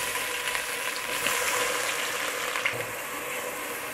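Onion sizzling in hot oil in a pan for a winter spinach dish, a steady bright crackle with small pops and bursts, fairly close, no voices.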